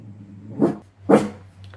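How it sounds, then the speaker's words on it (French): A dog gives two loud, close barks about half a second apart over a low steady hum. "J'attends que le chien soit passé."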